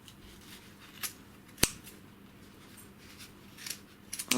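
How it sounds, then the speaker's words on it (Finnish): Fabric scissors snip around the edge of a yarn tassel: a few short, crisp cuts, one sharper and louder near the middle, with more clustered snips near the end, over a quiet room background. "Sitten otetaan ne kangassakset ja leikataan täältä reunasta."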